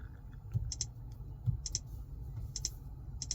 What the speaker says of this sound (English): Now, to find a radio station, you simply just kind of type one right in.